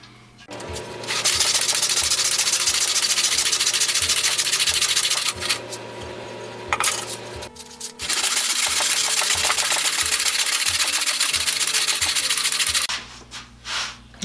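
A saw cuts a piece of wood in a miter box with a continuous rasping, scratchy sound in two long, loud bursts. A short pause separates them, and the cutting stops near the end.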